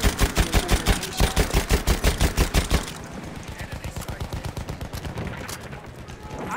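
Enemy gunfire in the World War I shooter Battlefield 1, a loud rapid rhythmic burst of automatic shots that then carries on more quietly and farther off at the same steady pace.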